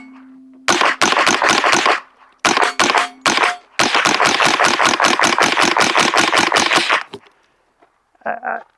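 Rapid suppressed gunfire through a Shadow Silencers Duo Mini pre-production suppressor, dozens of quick loud reports in several bursts, close by and outdoors, with a brief low hum at the start and faint noise after the shots.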